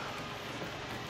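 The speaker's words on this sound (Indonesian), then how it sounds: "ini hujan sudah mulai reda" Steady rain patters on the ground at a grassy outdoor spot, a dense even hiss that holds throughout without a break, fairly soft and close, with no voices.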